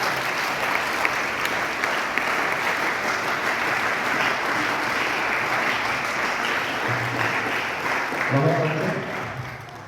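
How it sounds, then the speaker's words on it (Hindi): School audience at a youth mock parliament gives loud, sustained applause for the children's presentation, a thick steady roar of clapping lasting nearly ten seconds, with a few voices rising near the end. "इसके लिए हम पुनः उनके प्रोत्साहन के लिए जोरदार तालियों के साथ उनका अभिनंदन करेंगे।"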